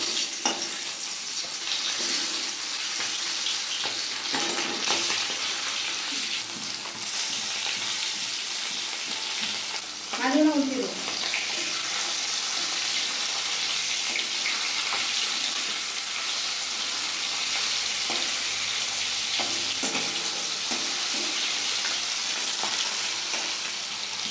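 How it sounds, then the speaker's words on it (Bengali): Hilsa fish fries in hot mustard oil in a kadai with a continuous, even sizzle. A brief clatter comes about halfway through, and nobody speaks. "তেল গরম হয়ে গেছে মাঝে ভেজে নেব"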